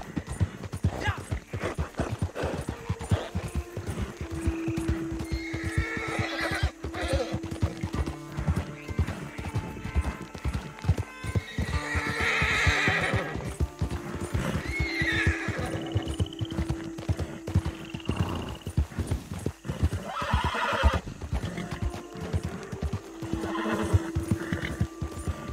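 Horse in the video game Red Dead Redemption 2 with steady clip-clop hoofbeats, several neighs and whinnies rising over the trotting, and game music beneath, loud and close.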